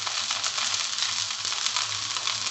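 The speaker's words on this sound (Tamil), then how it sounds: "மேலே இந்த மாதிரி கோல்டன் ப்ரௌன் ஆகிற அளவுக்கு தோசையை வேக விட்டு அப்புறமா திருப்பி போடுங்க" Rava dosa frying on a hot pan, giving a steady, close hiss of sizzling batter that holds at an even level throughout, with no voices over it.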